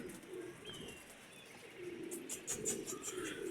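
A pigeon coos softly a few times, with faint chirps over quiet background noise and no talking.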